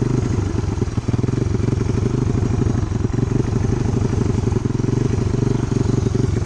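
An amphibious ATV engine runs steadily, a close, continuous buzzing drone with a fast mechanical pulse and no clear revving.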